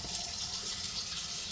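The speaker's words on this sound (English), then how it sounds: "I'm going to run the water" Kitchen tap water runs steadily into a sink while a Mediterranean chicken dish is being cooked, a continuous broad hiss that holds even and close for the whole moment with no talking.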